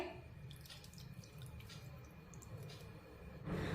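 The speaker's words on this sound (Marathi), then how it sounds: "आता पाणी यामध्ये ॲड करूया पण थोडं थोडंसं पाणी टाकायचं" Water trickles and drips into a curd-based rice flour batter for appe, giving faint, close splashes and droplets over a quiet kitchen background, with a slightly louder pour near the end.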